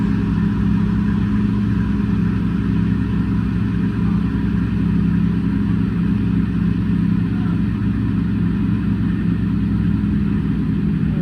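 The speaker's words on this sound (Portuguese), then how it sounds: "Esse é o som de mais de 40 cilindros ligando ao mesmo tempo." Several Bugatti engines, more than 40 cylinders in total, running together as a steady, loud, dense mechanical drone with constant low rumble and no gaps.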